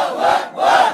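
A crowd at a Bengali Islamic sermon gathering roars a takbir chant in response, two loud, broad surges of massed voices separated by a brief dip.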